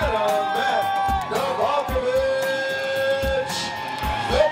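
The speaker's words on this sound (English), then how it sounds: "Let's give him a big round of applause." A crowd cheers and whoops at a Reebok Spartan Sprint obstacle race finish in Montana, steady and moderately loud under continuous talk.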